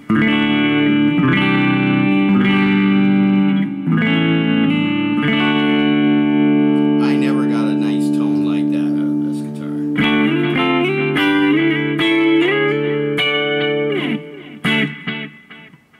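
Sustained clean, smooth chords on a Chinese Les Paul-style electric guitar using the middle pickup position, held and changed several times before the notes are cut off near the end.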